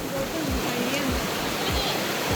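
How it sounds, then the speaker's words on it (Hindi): Water gushing out of Robbers Cave (Gucchu Pani) near Dehradun during the monsoon, a steady, close, broadband rush like a stream or small waterfall that holds constant throughout, with a faint voice murmuring underneath. "और पानी देखो इसमें से कैसे निकल रहा है"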